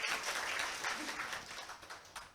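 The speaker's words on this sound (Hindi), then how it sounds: "बजाओ ताली।" A classroom of students claps together on a teacher's cue, a dense spattering burst of hand claps that stays steady before thinning toward the end, with a faint voice underneath.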